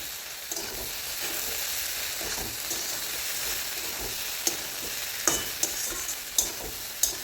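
Okra and egg with spices sizzle steadily in a frying pan while a spoon stirs and scrapes, with a few sharp clicks of utensil against the pan near the end.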